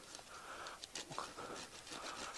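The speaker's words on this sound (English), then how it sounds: "Fallen tree, no problem when you've got a Silky Gomboy in your motorcycle bag." A Silky Gomboy folding saw cuts through a fallen tree, its teeth making close, rhythmic rasping strokes that scrape steadily back and forth through the wood.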